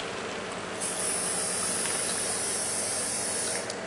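A coffee maker lets out a steady, loud hiss of steam that holds continuously and close throughout, with no talk over it.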